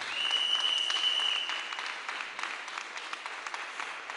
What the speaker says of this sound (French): Acclame le Seigneur Jésus-Christ.